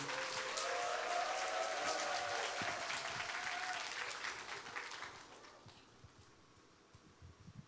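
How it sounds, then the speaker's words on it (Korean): A congregation claps to welcome a pastor to the stage at a church summer festival worship service: a dense, sustained round of applause from a large crowd that gradually thins and fades toward the end. "우리 목사님 나오실 때 환영의 박수, 또 하나님께 영광의 박수 올려드리며 박수로 모시겠습니다."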